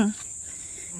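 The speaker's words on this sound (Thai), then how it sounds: "เสียงจิ้งหรีดร้อง" Crickets chirp in a steady high-pitched trill throughout at a temple in Thailand, with a brief voice fading out at the very start.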